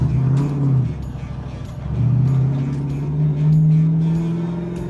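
A Ford Mustang SN95 on a test drive, its engine droning and rising in pitch as it accelerates through gears, with steady road rumble close by.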